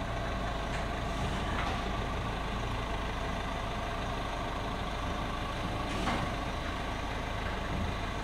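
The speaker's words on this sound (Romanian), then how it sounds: "și o placă turnantă cu care întoarce mașina" A car turntable in a Budapest parking garage rotates a car, producing a constant, loud mechanical drone with faint intermittent clicks and no speech.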